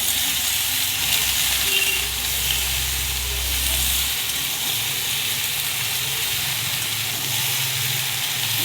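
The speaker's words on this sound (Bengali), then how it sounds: "আমি গ্যাসটাকে আস্তে দিয়ে দিয়ে ভাজছি" Steady, loud sizzling hiss of flat beans, eggplant and radish frying in a pan over low gas flame, continuous throughout with a low hum early on and no talking.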